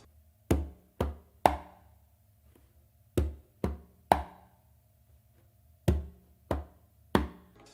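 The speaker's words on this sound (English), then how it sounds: "I start this tumbao actually with my non-dominant hand, and it's going to be a bass and then a finger" Conga tumbao played hand against drum: nine sharp, close strikes grouped in threes, each a mix of bass, finger and slap tones, with short decays and no talk.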